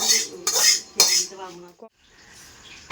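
Metal cutlery clinks and scrapes against dishes as rice is served at a late-night Ranna Puja meal, with a few sharp clatters early on followed by quieter handling.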